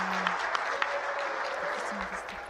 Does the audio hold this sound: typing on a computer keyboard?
no